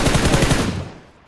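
A loud, rapid burst of automatic gunfire from a shooter video game rattles out for about a second, then trails off into echo.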